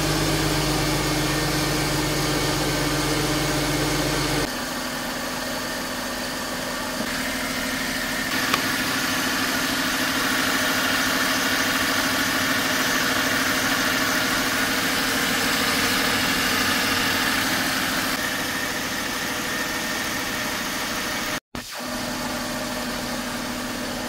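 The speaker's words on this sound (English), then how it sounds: "Let's start up the engine and enjoy the sound of this Mercedes." A Mercedes V6 or V8 engine of the M272/M273 family, just refilled with fresh oil and a new filter, cranks and catches, then settles into a steady, smooth idle that continues close by with slight shifts in tone.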